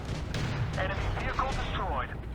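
A Jagdpanther tank destroyer's main gun firing in the Tank Company game, a deep heavy boom with rumbling battle noise underneath while someone talks.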